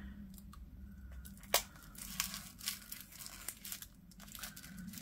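Plastic packaging around Plus Minus washi tape rolls is torn and crinkled open by hand, with sharp rips and irregular crackling bursts over several seconds, close and moderately loud.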